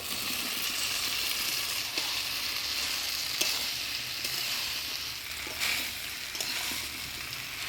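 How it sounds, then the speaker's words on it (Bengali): Jackfruit and boiled potato stirred through spice paste in a hot pan for jackfruit prawn curry, giving a steady continuous sizzle and fry with scraping stir strokes throughout, no talking. "কাঁঠাল আলুটা আমি মশলার সাথে ভালোভাবে নাড়াচাড়া করে নিলাম"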